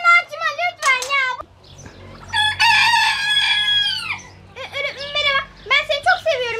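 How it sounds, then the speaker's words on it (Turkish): A rooster crows loudly and up close in several long, strained calls, with other fowl clucking and a person talking between the crows. "sen öfkeli bir horoz musun?"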